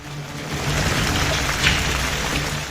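Heavy, steady rain pours down in Maharashtra during the monsoon, a dense, continuous hiss that stays loud and even throughout with no voices.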